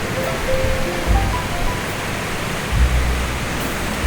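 Stream water rushing over rocks beside a roadside near Munnar, a steady broadband roar, close and loud, with brief low rumbles passing underneath and no talk.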